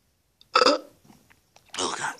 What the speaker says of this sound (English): I need a burp right there